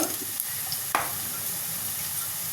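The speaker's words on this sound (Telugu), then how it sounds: "ఉల్లిపాయలు బాగా ఎర్రగా ఫ్రై అవ్వాలి" Onions fry in a pan with a soft, steady sizzle and a few brief stirring scrapes, fairly quiet and close.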